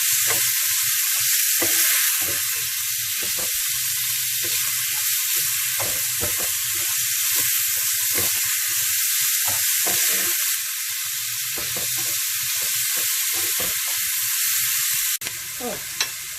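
Minced meat sizzling and frying in a hot pan for keema paratha, a loud constant crackling hiss broken by bursts of scraping as it is stirred, close up with no voices.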